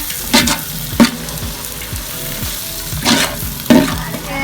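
Masala with tomatoes and onions stirred into mutton biryani in a pot, a steady frying sizzle broken by four distinct scraping, clanking strokes of the spoon against the vessel.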